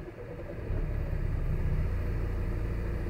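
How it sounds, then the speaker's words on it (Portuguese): A Volvo XC90 in Germany, started with a foot on the brake and a turn of the dial, fires up under half a second in and then settles into a steady low idle rumble heard from inside the cabin. "E vou dar partida agora aqui no carro"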